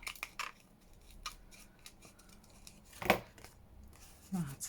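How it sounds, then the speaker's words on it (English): Scissors snip through paper while pre-made ephemera is trimmed, producing a few light cuts and handling rustles, with one sharper snip near the middle, all fairly quiet and close. "Just snip that off."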